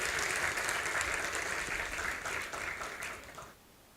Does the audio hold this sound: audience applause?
yes